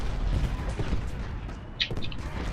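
Battlefield gunfire from the Gettysburg strategy game Ultimate General: Gettysburg, a dense continuous rumble of artillery and musket volleys with scattered sharper reports near the end, no voices.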